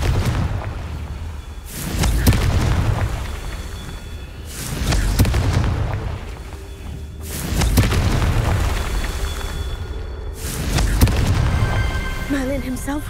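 Repeated fiery explosions from the Confringo spell in the Hogwarts Legacy video game, four heavy booming blasts roughly every three seconds, each with a rumbling tail, loud and close with no talk over them.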